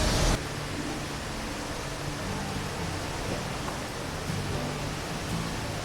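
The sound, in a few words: Brandywine Falls waterfall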